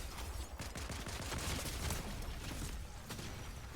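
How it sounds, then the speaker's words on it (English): Dense, rapid gunfire from a Fortnite Chapter 7 fight, with a Deadeye assault rifle in play: steady overlapping shots and impacts fill the whole stretch at fairly low level, with no talk. "Dodging these shots left and right."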